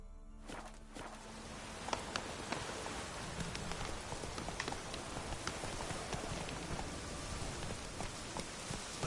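Roach the horse's hooves clop in The Witcher game, with irregular footfalls over a steady hiss like rain, fairly faint and alone.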